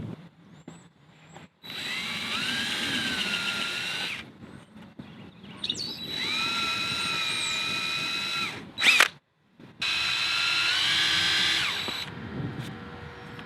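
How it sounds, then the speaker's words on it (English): A power drill drives screws into the back of a wooden table in three sustained whining bursts, each lasting a couple of seconds and separated by brief pauses, with a short sharp knock in between. "putting the depth of the screw into these holes in the back of the table"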